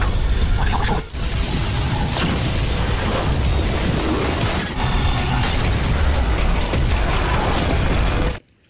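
A huge, sustained explosion roars in the Swallowed Star animated series, a dense, loud rumble of blast and debris lasting several seconds before it cuts off abruptly.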